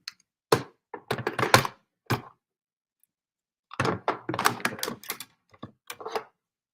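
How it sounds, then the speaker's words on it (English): A die cutting machine is run by a crafter, giving several separate bursts of close, dry clicking and rattling thunks broken by short silences. "Run that through my die cutting machine."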